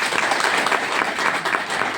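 Audience clapping at a gathering in India, a dense, steady round of applause from many hands, loud and close, continuing evenly for two seconds without voices.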